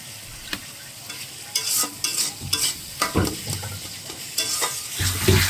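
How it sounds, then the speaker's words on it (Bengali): Spice masala of tomato, cumin paste and ginger frying in a pan as water is added, with sizzling and a string of scraping stirring strokes close up. "হ্যাঁ, একটু পানি দিয়ে দিলাম।"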